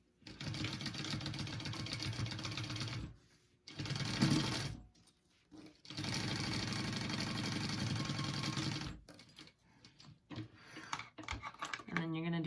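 A sewing machine top-stitches a clutch wallet, running in steady, even-paced stitching stretches with short pauses between them, close and fairly quiet, with brief handling noises in the gaps.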